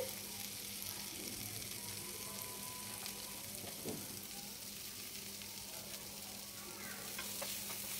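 Mixed vegetables and tomato pieces fry in a pan for South Indian style noodles, a constant quiet sizzle with occasional scraping stirs of the spoon, close and steady throughout.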